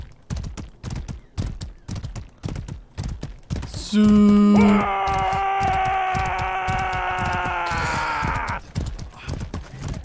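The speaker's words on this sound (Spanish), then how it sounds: "Sí, hay un caballo, todo mío, todo mío." Horse hooves in the medieval combat game Mordhau clop steadily in a fast rhythm, then a long sustained tonal blare cuts in over them for a few seconds before the hoofbeats carry on alone; someone speaks one short word.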